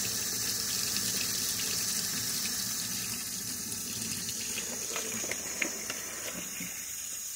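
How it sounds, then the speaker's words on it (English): Hot tap water pours steadily into a kitchen sink over a bag of cooked shrimp, a continuous loud hissing splash close by, with no talking. "put it in the sink, add some hot water to the bag"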